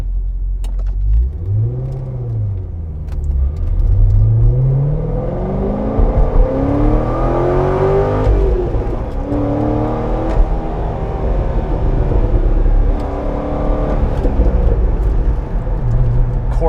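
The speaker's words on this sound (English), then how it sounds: "The exhaust sounds amazing." A 2007 Chevrolet Corvette Z06 engine revs hard through its exhaust, its pitch sweeping up and falling back in several loud, close pulls over a deep, steady rumble.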